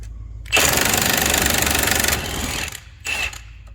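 An impact wrench buzzes off a sway bar end link bolt on a car in the Rust Belt, one loud rattling burst of about a second and a half, then a short second burst after a pause.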